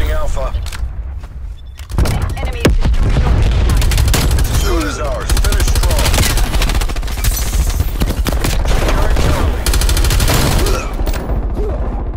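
Dense, loud automatic gunfire bursts in Call of Duty Black Ops Cold War, rapid rattling shots nearly continuous for several seconds with booms mixed in and a voice talking over it.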